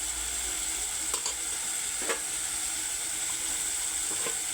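Vegetables crackle and sizzle steadily in hot oil in a pan, a loud continuous frying hiss with a few faint stirring clicks and scrapes.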